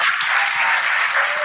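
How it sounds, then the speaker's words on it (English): An audience applauds the winning school, Supreme Montessori, at a junior high school contest, a loud, steady burst of crowd clapping filling the whole moment without speech. "to our winners for this morning's contest, Supreme Montessori School, a big round of applause"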